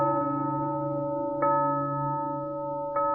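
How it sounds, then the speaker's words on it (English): Estate bells ring in sustained tones, with a steady humming chord that is struck again partway through and once more near the end, each new stroke adding a bright layer over the fading ring. "You hear the bells ring from the estate."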